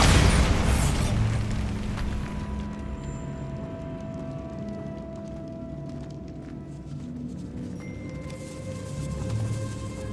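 Bombarda blasting spell going off in Hogwarts Legacy inside the decaying Feldcroft catacombs, a loud booming burst at the start that rumbles and fades into a long low echoing tail with faint debris and ambience.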